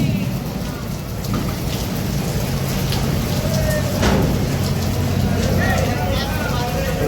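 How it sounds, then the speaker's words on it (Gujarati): Heavy rain pours steadily, a dense, loud wash of drops on surfaces near a godown, with a brief sharper burst midway and faint voices beneath. "વરસાદ આવે ફૂલ"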